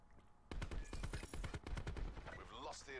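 Gunfire in Call of Duty: Black Ops 4, starting after a short pause as loud rapid automatic bursts that keep going for a few seconds, with other game sounds mixed in.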